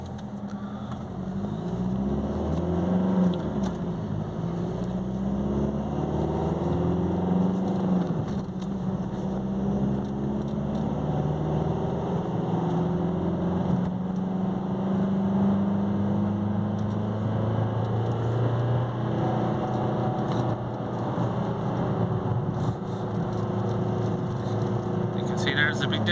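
A Vauxhall Opel Insignia 2.0 CDTI diesel with a turbo overboost fault drives on a private road, its engine droning steadily from inside the car and rising and falling through the gears.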